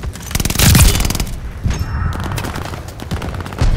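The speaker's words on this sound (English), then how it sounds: "Friendly mortar fire coming." Mortar fire in the video game Call of Duty: Vanguard: heavy, loud booms and rolling blasts pound close by with constant battle noise, then a dense barrage swells again at the end.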